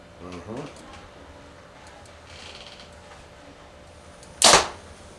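A brief voice at the start, then quiet before a single sharp compound bow shot, a Bowtech SS34, with a dull thud, loud and close.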